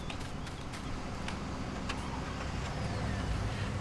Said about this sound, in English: I think I will drive the new truck